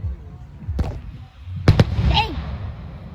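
Fireworks bursting overhead at an outdoor wedding celebration: one sharp pop, then two louder close bangs followed by crackling and a whistling trail, over low crowd murmur.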